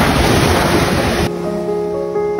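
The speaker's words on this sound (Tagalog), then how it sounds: "Mahabang dalampasigan, puting buhangin na may kasamang hampas ng alon." Ocean surf rolls onto a long white-sand beach at Casiguran, a loud, dense wash with strong wind noise that abruptly drops to a quieter, steadier roar.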